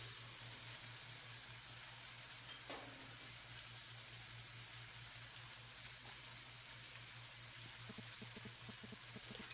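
Tomatoes sautéing in a pan with rock salt for a mango curry, a faint steady sizzle and crackle with a constant low hum underneath and one brief tap partway through.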